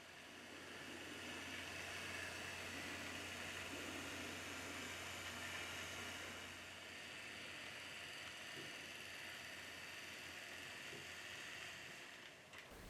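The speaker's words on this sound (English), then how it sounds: "The engine runs smoothly and is fairly quiet." An HO scale Athearn GP40P-2 model diesel locomotive in Southern Pacific livery running on DC power, giving a steady, fairly quiet motor whir and faint track hum that continues evenly throughout, with no speech.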